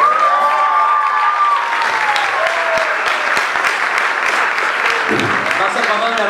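An audience at a student music showcase applauds and cheers steadily throughout, with a tonal sound audible early on and a brief low rumble near the end.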